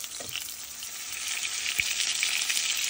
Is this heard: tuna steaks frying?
yes